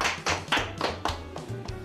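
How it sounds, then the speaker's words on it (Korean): A handful of people clap their hands in a loose, uneven burst of about seven sharp claps, fairly close, with faint room tone between. "박수, 박수."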